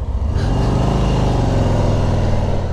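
A 2020 Harley-Davidson Street Glide Special motorcycle rides through suburban streets, its engine a loud, steady low rumble with a close, even throb throughout.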